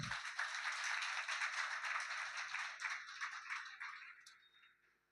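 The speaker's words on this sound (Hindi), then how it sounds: "आप लोग जोरदार तालियां बजाएं।" An audience claps at a Hindi poetry gathering (kavi sammelan) in Vitthalwadi West, Ulhasnagar: a steady burst of many hands that tapers away and fades out toward the end.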